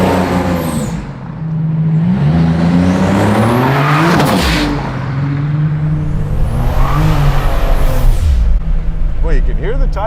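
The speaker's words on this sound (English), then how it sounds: "you can hear the tire though, like you get a little spin when you're actually rolling" A Buick Grand National revs loudly up close, engine pitch climbing and falling across several pulls, with a brief squeal of spinning tires near the end; no talk over it.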